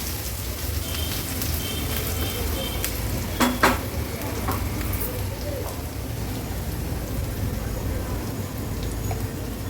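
A tempering of crushed ginger, garlic and green chili with asafoetida sizzles in a pan, a loud, continuous crackling hiss with occasional scraping stirs.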